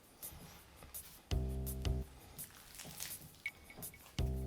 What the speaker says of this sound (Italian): Togliete tutto e iniziate a impastare.